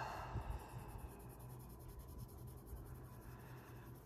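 A Prismacolor colored pencil blends skin tones on paper with a soft, steady scratchy whisper of pencil lead over the page, close and quiet.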